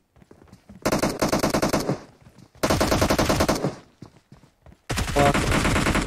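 Rapid automatic gunfire in a Minecraft server game, three long bursts of dense, evenly spaced shots, each lasting about a second and separated by brief quiet gaps with faint footsteps.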